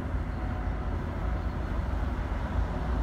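Heavy lorries overtaking an open-top car on a French motorway at night, a dense low rumble of wind and road roar that stays loud and steady without a break.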